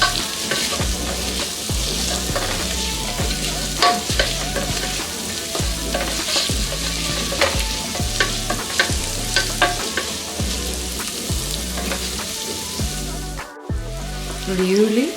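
Onion frying with ginger-garlic paste in a pan for palak rice, with a steady, loud sizzle and repeated rhythmic scrapes of a spoon stirring throughout, a brief dropout near the end.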